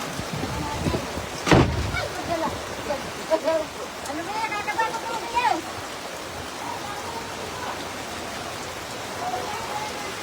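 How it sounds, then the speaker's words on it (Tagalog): Hail falls in the Philippines as a patter of scattered icy impacts on surfaces, with a sharp louder hit early on and quieter ticking after, while voices murmur faintly in the background. "Umulan ng yelo."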